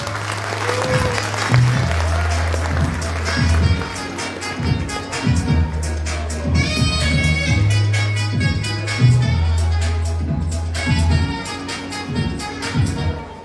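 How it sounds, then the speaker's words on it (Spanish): Applause from the audience at a university graduation ceremony, a steady dense patter of many hands lasting throughout, with a low, sustained musical tone underneath. "Los aplausos para ellos."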